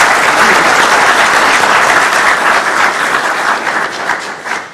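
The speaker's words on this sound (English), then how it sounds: "deserves a round of applause on her own" A crowd at an awards ceremony claps for an executive assistant, dense loud applause that holds steady for several seconds and then tapers off.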